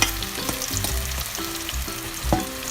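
Kangkong fritters, eggless, frying in hot oil: a steady close sizzle and crackle with small bubbling pops throughout, no talking.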